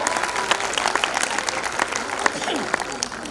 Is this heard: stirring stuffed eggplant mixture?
no